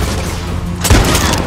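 A single heavy blast booms out in the Far Cry 6 shooter game, a sudden low thud about midway that lingers as a rumbling roar over constant game noise.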